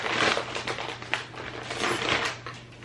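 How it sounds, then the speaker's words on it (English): Tube-shaped plastic packaging around bedding pillows is cut open, giving close, continuous crinkling and rustling with a few sharper crackles over a low steady hum. "This is gonna be satisfying when I cut it open."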